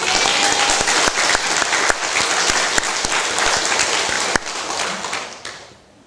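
A church congregation at a Korean worship service applauds warmly, a full, dense clapping with a few sharper individual claps standing out, before it dies away over the final second.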